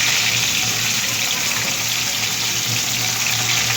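Chicken shami kebabs of raw minced meat and spices fry on a low flame, a steady dense sizzle that stays loud and even throughout with no speech.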